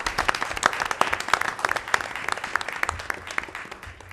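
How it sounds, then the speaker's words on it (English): An audience at a school board meeting applauds for high school students, a steady burst of many hands clapping that lasts throughout and slowly thins toward the end. "let's just have a quick round of applause for those students."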